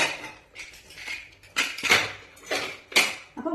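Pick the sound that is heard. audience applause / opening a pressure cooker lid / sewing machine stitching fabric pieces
opening a pressure cooker lid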